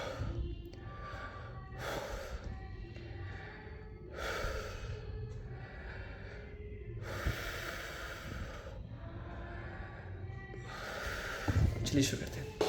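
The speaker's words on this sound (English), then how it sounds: "5 times take a breath and exhale." A person repeatedly breathes in and exhales as a breathing exercise, making audible airy inhales and outflowing breaths one after another at close range.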